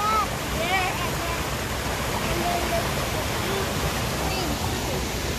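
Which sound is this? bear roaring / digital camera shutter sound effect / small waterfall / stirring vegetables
small waterfall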